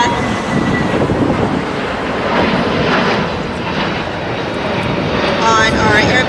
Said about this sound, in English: We have Delta 1136 departing back to MCO Orlando